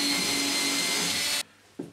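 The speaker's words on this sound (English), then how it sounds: "I'm going to start off by drilling the correct sized hole in the plasterboard" Drill boring a hole into plasterboard, a steady loud whine running alone for well over a second before cutting off abruptly, then a brief low knock near the end.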